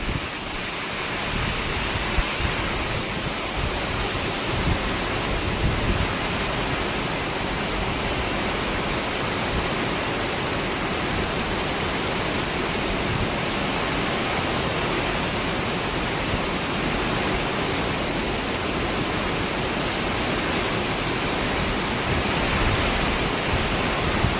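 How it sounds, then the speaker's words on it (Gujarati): A heavy downpour pours over open ground beside coconut trees, a thick, continuous hiss and roar of rain with wind buffeting the microphone, loud and even from start to finish with no talking. "જબરદસ્ત વરસાદ છે આજનો"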